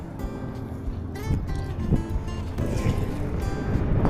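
Strong wind buffets the microphone at sea at night, a steady low rumble with rising gusts toward the end, continuous and close.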